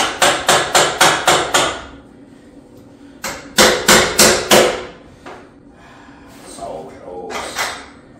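A hammer taps a bolt through a painted part on a 1957 Chevrolet project car, striking in two quick bursts of about six crisp metallic blows each, close and loud, followed by fainter handling noises.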